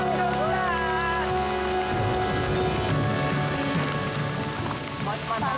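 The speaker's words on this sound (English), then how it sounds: "The return of the rain proves to be their salvation." Rain pours down on a remote island during a survival challenge, a continuous patter and splash heard close by while people talk excitedly over it.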